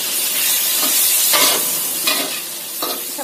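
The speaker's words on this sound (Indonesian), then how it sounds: "Aduk sampai tercampur rata." Chicken is stirred with oyster sauce and soy sauce in a hot frying pan. A loud, continuous sizzle rises in several bursts of scraping and stirring, close up, with no voices.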